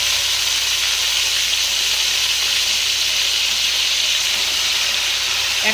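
Malabar spinach and potato pieces fry with salt and turmeric in a pan, making a continuous, even sizzling hiss with no talking.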